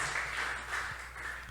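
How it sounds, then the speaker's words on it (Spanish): An audience at a youth church service applauds, a dense, steady wash of clapping that stays fairly even and moderately loud through the short stretch, with no talk over it. "¿Alguien tiene un aplauso para Jesús?"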